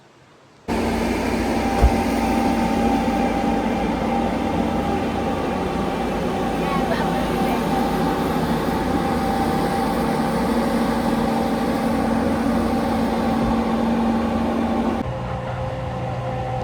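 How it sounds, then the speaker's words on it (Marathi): A Snowdon mountain railway train's steady, droning engine hum rumbles continuously for several seconds, then shifts tone slightly near the end. "सो ही ती ट्रेन स्नोडोनियाच्या टॉप पॉईंटला तुम्हाला घेऊन जाते."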